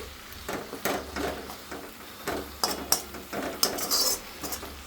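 A gongura leaf dish is mixed in a pan, with a spoon scraping and clinking against the metal in irregular strokes, close and moderately loud.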